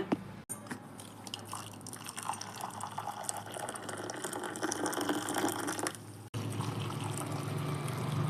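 Cooking water from boiled tomatoes being poured off into another vessel in a home kitchen, a steady continuous trickle and splash running for several seconds with brief handling knocks.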